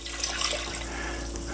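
Beef broth pours steadily into a cooking pan, a continuous close splashing liquid stream of even loudness with no talk.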